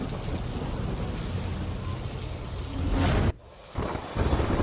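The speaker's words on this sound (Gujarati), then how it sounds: "પોપટપરા વિસ્તારમાં ભારે વરસાદી માહોલ જોવા મળી રહ્યો છે" Heavy monsoon rain pours steadily over Popatpara in Rajkot, a dense loud hiss that swells near the end, then cuts out briefly before resuming.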